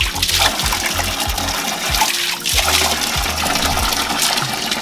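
Ice-cold water comes down from the mountains and flows along the Pipeline Track in the Galiyat hills, a loud and continuous splashing rush heard up close with no talking.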